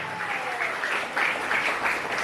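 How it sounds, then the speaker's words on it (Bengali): Sustained applause at a school prize announcement for a top-scoring student, a steady dense patter of many hands clapping throughout, with faint crowd murmur underneath. "হাততালি একটু জোরে"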